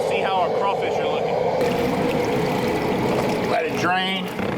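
Dirty rinse water is dumped out of a crawfish bin during a crawfish boil, a loud steady gushing pour with a voice talking over it in bursts.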